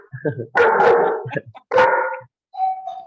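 A dog barks loudly in two close, heavy bursts with softer yips between them, ending on a short high-pitched tone.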